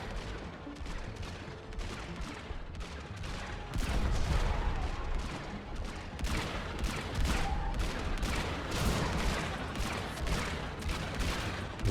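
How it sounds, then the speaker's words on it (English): Distant, rolling volleys of T3 artillery pieces firing in the strategy game Sanctuary Shattered Sun, a dense barrage of booms with no gaps, growing heavier about a third of the way in and continuing to the end. "Look at these things firing. These are T3 artillery pieces."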